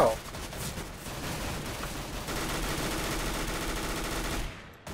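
Rapid bursts of gunfire from a Counter-Strike: GO match fill the whole stretch, dense and loud, with a voice talking over the shooting before it cuts off near the end.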